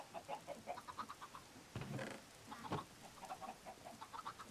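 Chickens in Minecraft cluck in soft, rapid, repeated bursts, faint and steady, broken briefly by a couple of louder clattering game sounds.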